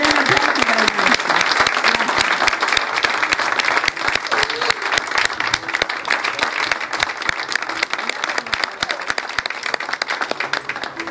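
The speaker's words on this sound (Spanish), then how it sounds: "un gran aplauso para el maestro Osmar Maderna" Crowd at a graveside tribute in a cemetery applauding maestro Osmar Maderna, loud dense clapping from many people that carries on without a break for the whole stretch.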